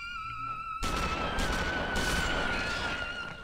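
Loud sustained burst of gunfire erupting after a quiet moment in a Tomb Raider level editor game, a dense rapid barrage with a steady tone running beneath it, with no talking.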